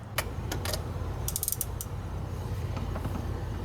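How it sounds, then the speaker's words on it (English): A ratchet socket loosens two 8mm nuts on an EGR pressure feedback sensor of a 1997 Ford, giving sharp scattered clicks and ratchet ticks over a low steady hum, close and alone. "Just socket on there, loosen up the two nuts."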